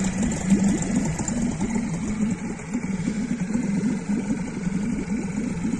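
A Yamaha 4 two-stroke outboard boat motor, Japanese-made and in good condition, runs at a steady idle with a buzzy, throbbing low drone and fast regular pulses, close up and alone with no talking.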